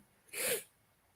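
A single short sneeze from a person with congested sinuses, close and sharp, followed by quiet.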